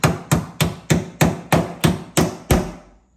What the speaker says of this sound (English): Remember the last time we done body work with a hammer?